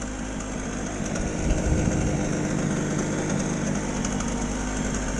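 An old two-stroke generator engine runs steadily, a loud buzzing drone that holds an even pitch throughout, close by with no talking.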